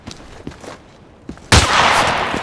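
Sniper gunfire from Battlefield 2: Special Forces on the Ghost Town map. A few faint distant cracks come first, then a loud, sustained burst of close gunfire erupts and keeps roaring to the end.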